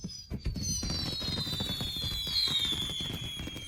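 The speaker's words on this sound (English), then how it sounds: "Fireworks. They're beautiful." Fireworks bursting at a New Year celebration near a resort in Yuncheng, a dense continuous crackle of many small bangs with high whistling tones gliding downward over it, loud and steady throughout.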